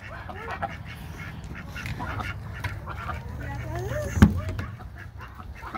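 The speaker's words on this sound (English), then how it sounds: "She's actually walking and she's quacking and everything now." Ducks quack repeatedly over a noisy outdoor background, with a sharp knock close by near the end.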